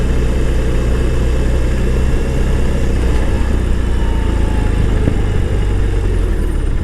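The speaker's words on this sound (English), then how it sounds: "This is the first time I'm experiencing the Boxster engine. I must say the engine is pretty smooth." A 2020 BMW R18 motorcycle with a boxer engine runs smoothly with a low, steady rumble, mixed with wind noise from riding.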